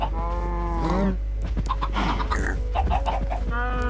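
Minecraft cattle moo and chickens cluck together over a continuous background hum, farm animal calls overlapping closely.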